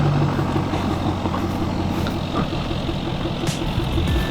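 A diesel truck engine idles close by with a steady, rough low rumble and faint knocking clatter, continuous and unchanging with no talking.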